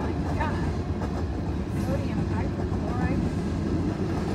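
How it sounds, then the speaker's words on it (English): A CSX freight train with tank cars and boxcars rumbles in Kingston, New York, a broad low drone heard at a distance with faint rail clatter, while a person talks over it. "I think I hear something like an engine coming up."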